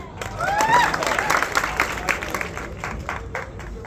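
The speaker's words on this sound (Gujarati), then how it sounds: "જોરદાર તાળી થઈ જાય" Applause and cheering from an award show audience, with clapping, crowd babble and a rising whistle that rise quickly and then settle into scattered claps over a few seconds.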